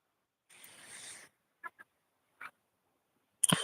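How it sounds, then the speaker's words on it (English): Seagulls call at night in a few short bursts, a longer cry and brief yelps separated by silence, with a sharper close cry at the end. "Seagulls are still piping up here and there, even though it's dark now."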